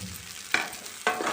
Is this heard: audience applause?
no